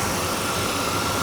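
A Chevrolet Blazer engine with a smoking exhaust runs steadily, burning off spilled gunk, giving a continuous dense rumble with broad hiss at even loudness and no talk.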